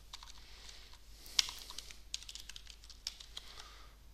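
Fingers type on a computer keyboard, a quick run of light, close key clicks with an uneven rhythm and one sharper tap, heard alone and fairly faint.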